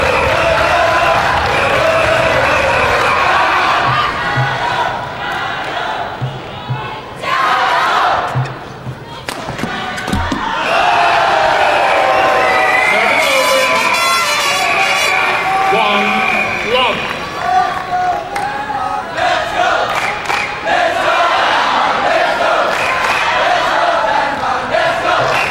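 Crowd of national junior badminton squads cheering at the All England 2005 men's doubles, a loud roaring wash of shouts and chants filling the hall, rising and falling with bursts of applause throughout.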